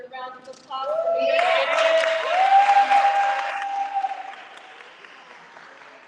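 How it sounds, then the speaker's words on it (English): Audience applause at a live reading event fills the middle seconds, with a voice talking over it before the clapping swells and gradually thins out. "Give another round of applause for me."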